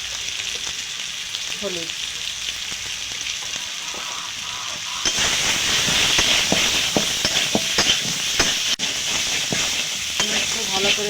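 Spices with salt and turmeric frying in a pan for egg curry, a continuous sizzle that grows louder partway through as a spatula scrapes in quick, irregular strokes, close by; a voice briefly speaks early on.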